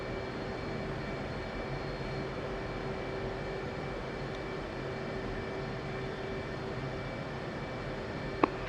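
An aircraft taxiing in the DCS World flight simulator gives a steady, continuous engine drone that holds an even level throughout, with a small click near the end and no talking.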